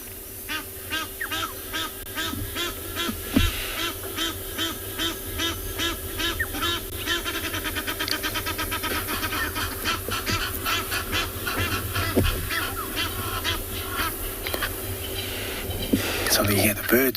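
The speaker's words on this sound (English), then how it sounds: "So we hear the birds calling in the background." Birds call repeatedly at a dam in the eastern Kalahari at sunrise, goose-like honks and quacks in a steady, fairly faint chorus across the scene while a person talks over them.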